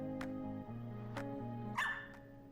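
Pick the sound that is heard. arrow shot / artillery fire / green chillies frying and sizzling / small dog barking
small dog barking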